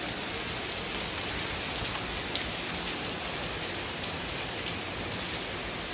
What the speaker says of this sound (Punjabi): ਬਹੁਤ ਤੇਜ਼ ਆ ਮੀਂਹ